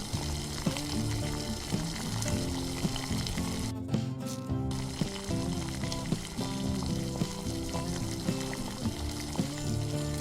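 Egg curry gravy of ginger and green chilli sizzles and bubbles in oil in a pan, a steady close crackle with repeated popping bursts and a brief lull partway through.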